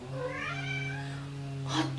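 A cat playing with a tripod lets out a single drawn-out meow, clear and close, rising then falling, followed by a brief rustle.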